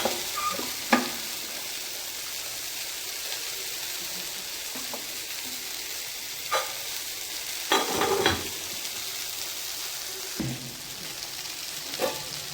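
Okra sautés in sesame oil with a soft, steady sizzle, and occasional spoon knocks and scrapes are spaced throughout.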